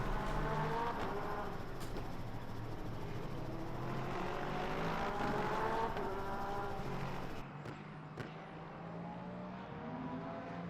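A Lexus race car in a sim racing game at Paul Ricard drones loudly at high revs, its engine pitch sweeping up and down through gear changes, with a couple of brief popping backfires on downshift.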